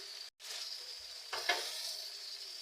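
Chopped tomato and onion sizzle in hot oil seasoned with bay leaf and dried red chilli, a steady broadband hiss with a short gap and a louder burst of spattering as more goes into the pan.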